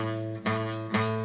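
A guitar note played with relaxed fretting fingers, giving a muffled, buzzy tone; a sustained pitch is re-struck twice in quick succession, close and moderately loud with no talk.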